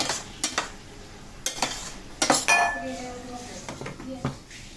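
A spoon stirs melted jaggery and amla in a pot, giving scattered clinks and scrapes of metal on metal in short irregular bursts, fairly close and moderately loud.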